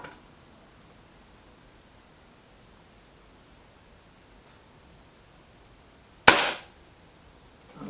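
A Gamo Boxer air rifle fires once, a single sharp, loud crack standing out against quiet outdoor background hiss, with no talking.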